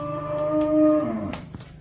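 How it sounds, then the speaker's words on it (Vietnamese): A young heifer on a Vietnamese cattle farm lets out one drawn-out, close moo of about a second, followed by a few knocks and rustles. "mình coi con bò nè anh chị"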